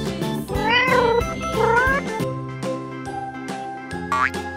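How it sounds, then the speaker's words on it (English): A cat meows loudly and close up in two drawn-out, rising-falling cries, set against a cartoonish musical backing with a springy boing sound near the end. "Cat."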